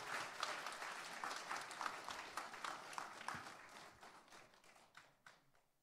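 A church congregation at a Sunday afternoon service claps in warm, steady applause that fills the room, then gradually thins out and fades toward the end.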